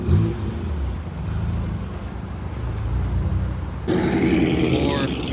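A Nissan GT-R R34 rolls in at a car meet, its engine a low rumble that swells louder near the end, with voices and crowd noise around it.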